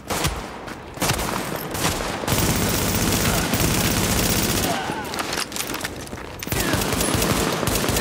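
Rapid automatic gunfire bursts in The Division video game, loud, close and sustained across several seconds with short gaps between volleys.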